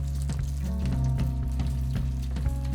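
Eggplant slices fry in strongly heated oil, giving a dense, steady sizzle close up with small crackles and bubbling pops throughout.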